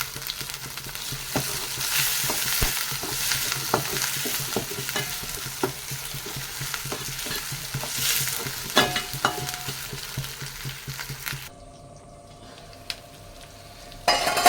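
Tomato pieces frying in a pan of fish curry masala, a continuous loud sizzle with scraping stirs of a spoon, close up; the sizzle drops away near the end, leaving quieter clinks.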